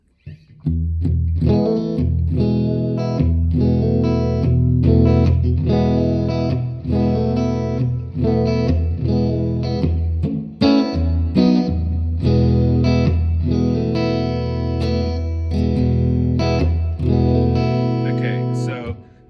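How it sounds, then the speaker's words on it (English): An electric guitar is played through a Mojo Hand FX RVT spring reverb pedal on its short setting, with steady strummed chords and picked notes ringing with a splashy reverb tail, loud and continuous. "I have this on a spring reverb setting"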